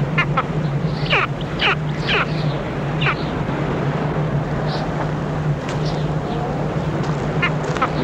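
Skuas guarding their eggs on a nest call with repeated harsh, quacking cries against a constant low hum, several calls spaced irregularly across the stretch.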